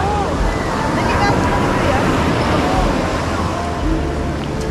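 Sea waves surge suddenly and roll in a heavy, continuous wash close by, with gusts of wind buffeting the microphone and a low murmur of voices in the background.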